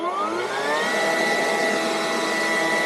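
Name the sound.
leaf blower running at speed 1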